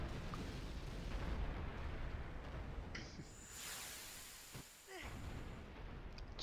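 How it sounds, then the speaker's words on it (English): An explosion in the video game Final Fantasy X is a long, loud, roaring blast of rumbling noise that dips briefly before surging back. "I guess the explosion propelled him"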